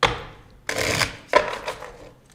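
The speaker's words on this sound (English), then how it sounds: "Last little shuffle there." Two quick bursts of tarot cards riffled together, crisp and close, with a softer papery rustle before and after.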